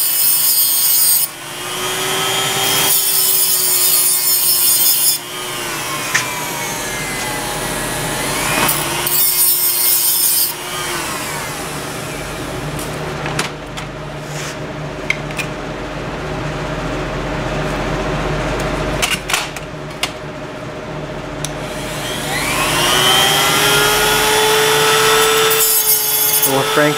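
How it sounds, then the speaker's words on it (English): Hand tool scraping and rubbing against a Phillips-head screw on the Keihin carburetor of a 2002 Triumph Bonneville America, cutting a slot to make it a flathead; steady, close grating strokes run through most of the stretch, pausing briefly now and then. "modifying our Phillips only screw into a flathead screw now"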